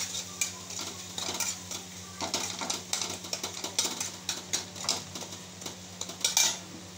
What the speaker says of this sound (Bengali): সামান্য একটু হলুদ গুঁড়ো দিয়ে মশলাটা ভালো করে কষিয়ে নিচ্ছি